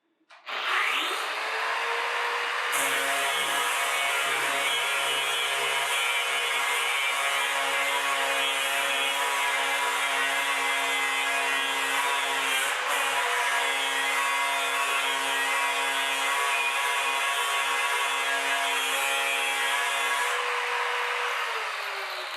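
An angle grinder with a fairly fine disc grinds corrosion off rusty metal while sparks fly, a loud continuous whining roar with a steady pitch that starts abruptly and holds for about twenty seconds before winding down, with no talking.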